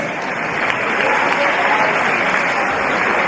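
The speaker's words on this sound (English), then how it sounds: "Round of applause to our referees." A crowd at a women's Grand Final rugby league match, Manly Warringah Sea Eagles versus Central Coast Crusaders, gives the referees a steady, loud round of applause that fills the whole stretch without a break.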